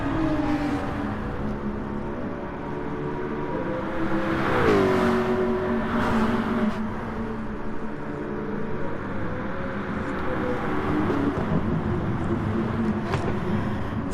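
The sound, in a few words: race cars driving at Suzuka in a GT3 sim racing video game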